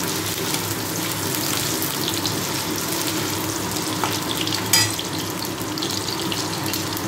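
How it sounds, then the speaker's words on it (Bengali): Potatoes frying in a pan of oil with whole cumin and a bay leaf, for a Bengali home-cooked dish, giving a steady broad hiss of sizzling throughout with a brief sharper crackle near the end, close and alone. "আলুগুলো একটু ভাজা ভাজা করে নেব।"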